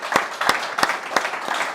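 A small meetup audience gives brief, scattered applause, a handful of distinct claps spaced unevenly over a couple of seconds, fairly close and modest in volume.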